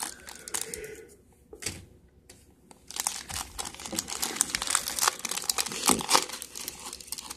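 Pokemon card booster pack wrapper being torn open and crumpled, close crinkling and tearing that briefly pauses then grows busier and louder, with no talk.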